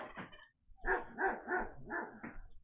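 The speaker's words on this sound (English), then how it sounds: "Could you hear the dogs?" Dogs bark at a well-fenced lodge near Homa Bay: two quick barks, a short pause, then a run of five evenly spaced barks at moderate distance with no talking.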